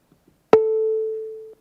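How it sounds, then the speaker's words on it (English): A synthesized sine-wave tone starts with a sharp attack and fades smoothly under an exponential decay envelope, a single clean pitch lasting about a second and cutting off at the end. "So let's have an exponential decay of this sine wave."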